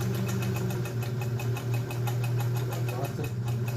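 A Kenmore 120.49 domestic sewing machine runs steadily with a low motor hum and a fast, even needle rhythm, close and continuous with no talk.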